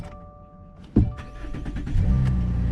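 A Subaru Crosstrek's engine cranks and catches after a battery replacement, with a sharp click, a few quick cranking pulses, then a steady, louder idle settling in close by.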